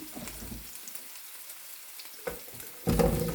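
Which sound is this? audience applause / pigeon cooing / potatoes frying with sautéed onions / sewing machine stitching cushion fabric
potatoes frying with sautéed onions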